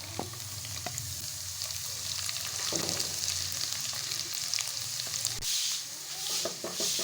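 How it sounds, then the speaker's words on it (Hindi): Garlic and ginger fry in a karahi with a continuous soft sizzle, close and moderately quiet, broken by occasional spatula taps and stirring while preparing beef keema karahi. "तो यहाँ मैं लहसुन जो हल्के हल्के फ्राई करने हैं"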